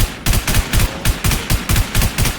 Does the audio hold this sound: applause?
no